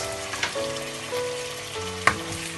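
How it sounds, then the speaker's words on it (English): Nuts fry in hot fat in a pan on a small hot plate, giving a steady close sizzle with a few brief louder crackles and clinks, and no talk. "At this time, we add all the nuts"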